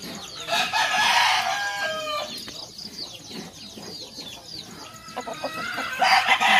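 Small chickens cluck and chatter busily nearby while a rooster crows loudly more than once, its calls rising over the steady flock noise outdoors.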